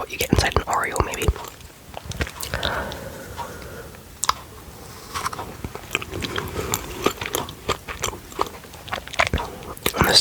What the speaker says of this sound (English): this is the way I like to eat these kind of biscuits